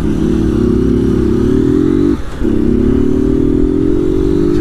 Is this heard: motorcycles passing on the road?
yes